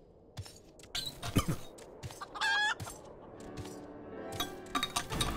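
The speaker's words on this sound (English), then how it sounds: "This chicken got bigger." A chicken in the Final Fantasy XIV video game clucks and crows among clattering game effects, with a sustained crowing note near the middle over steady background noise.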